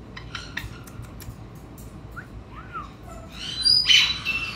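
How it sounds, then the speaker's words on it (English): Quick dry ticking clicks from an Amazon parrot or caique, a friendly call, then a short squawk and several bright chirps building toward the end, close and moderately loud. "And that tick, tick, tick, it means we want to be friends."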